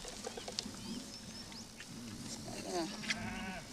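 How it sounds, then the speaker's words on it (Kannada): A pregnant sheep bleats a few times close by among other farm animals, with faint bird sounds and some background voices. "ಇದೊಂದು ಗಬ್ಬದ ಕುರಿ"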